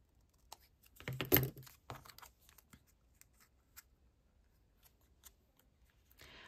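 Scissors snip paper near a faux fabric envelope junk journal project, with a sharp cut or two followed by light scattered snips and rustles, close and fairly quiet with no voice.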